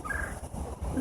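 A red-headed woodpecker with a grey body calls outdoors at Dufferin Islands, Niagara Falls, Ontario, a brief, faint, rough gobbling chatter over steady background noise.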